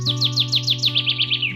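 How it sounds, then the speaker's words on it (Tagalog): In the rural countryside in the morning, a bird chirps a quick run of about ten bright, evenly spaced notes over a steady low hum. "Huni ng mga ibon"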